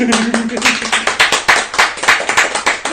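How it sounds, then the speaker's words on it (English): A golf clap for Michael Benjamin: a run of soft, scattered hand claps close by over about three seconds, with people talking and laughing through it. "Hey, everyone give a golf clap for Michael Benjamin."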